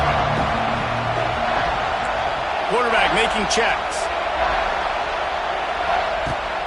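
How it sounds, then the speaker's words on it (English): Stadium crowd noise from a college football video game, Missouri State at Auburn, roars as a steady broad wash throughout while a commentator talks over it. "This crowd knows when to bring it."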